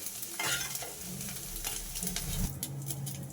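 Eggs frying in a pan, a busy crackling sizzle with spatula scrapes and light tapping throughout, close and moderately quiet, with no speech.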